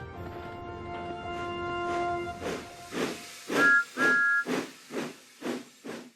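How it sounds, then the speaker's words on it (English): The Thomas the Tank Engine steam locomotive chuffs in a steady rhythm with hissing bursts of steam and sounds two short, close whistle blasts midway. "They were very surprised to hear Thomas whistle"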